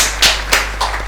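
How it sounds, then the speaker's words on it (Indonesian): Three soft, close claps in an uneven rhythm over a steady electrical hum, a small round of applause at a medical talk show, with no voices heard. "Boleh tepuk tangannya sekali lagi."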